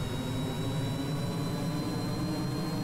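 Four roaring jet engines on a large plane in Kerbal Space Program, a steady, loud, continuous whine and rumble with a thin high tone riding on top, unbroken throughout.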